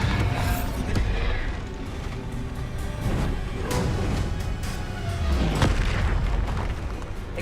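Bombarda spell explosions in Hogwarts Legacy, a dense run of booming blasts and bursts with rumbling low end, continuous and loud throughout amid chaotic combat effects.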